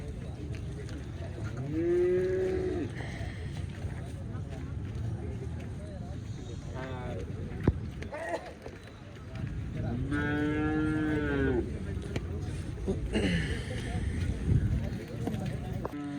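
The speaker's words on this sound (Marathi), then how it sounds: "टॉप क्वालिटीची गाई आहे" Cows moo loudly at a busy cattle market in Wavi, Sinnar, with two long drawn-out calls close by, under steady crowd noise and people talking.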